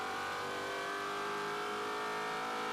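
A Trans Am TA2 race car at VIR at full throttle, its engine a loud, steady high-pitched roar held without letting off, with no voices over it.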